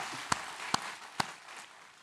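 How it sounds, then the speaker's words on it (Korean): A church congregation at a Sunday service gives quiet applause: three crisp, evenly spaced claps stand out close by over a faint, thin spread of distant hand-clapping that fades away. "박수로 하나님께 드리겠습니다."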